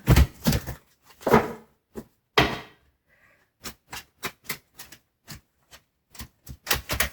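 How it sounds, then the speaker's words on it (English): A tarot deck shuffled by hand, heard as a series of sharp, close card slaps and riffles in irregular bursts separated by short silences. "this deck doesn't want to shuffle"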